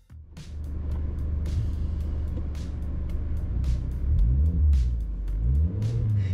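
A modified Suzuki Jimny 4WD engine idles, then revs hard and pulls away, the loud close rumble rising and falling through throttle changes, with a few sharp clicks and knocks along the way.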